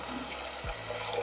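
Water from a tap runs steadily into a pot of butternut soup on the stove, a continuous close splashing flow that lasts throughout.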